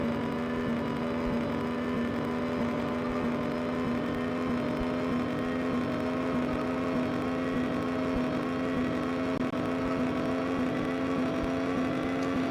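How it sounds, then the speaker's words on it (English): A van engine runs in a video game, a steady droning hum with a strong constant tone, holding at an even pitch throughout with no talking over it. "the sound the engine's making makes me think that I may need a new Apex seal"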